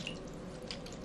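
Water splashes at close range as a face is wetted before washing, a soft continuous running and dripping with small bright splashes.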